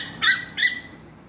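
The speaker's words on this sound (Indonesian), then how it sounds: "Burung perling itu makan. Tapi dia, ini hari dia bergaduh kat sini." Birds squabble over a feeding spot in a guava tree in an urban garden, giving two sharp, loud squawking calls in quick succession close by, followed by quiet.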